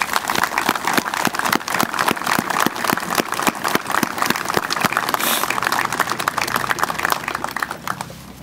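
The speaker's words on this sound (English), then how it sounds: "I'd like to everybody to give them a round of applause" Sustained audience applause fills a Veterans Day ceremony, dense steady clapping from a crowd lasting throughout with no voices over it.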